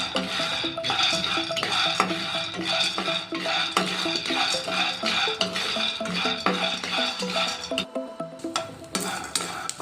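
Half a cup of peanuts dry-roasting in a pan over low flame, stirred with a utensil that scrapes and clinks against the metal in a busy, continuous rattle, close by, with a brief pause near the end.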